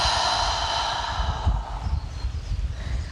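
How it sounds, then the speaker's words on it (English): A long, steady exhale through an open mouth during a breathing exercise, soft and close, fading gradually into quiet breath noise. "Exhale through an open mouth."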